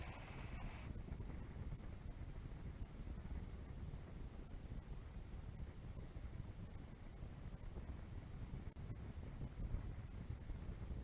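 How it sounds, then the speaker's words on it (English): Steady, heavy wind buffeting throughout, a dense low roar rushing past with no breaks, like air hitting a motorcycle rider at speed on a motorway in the Netherlands. "And on the motorway, it's a bit windy."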